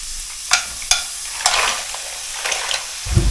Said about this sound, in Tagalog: Ilagay ang tahong.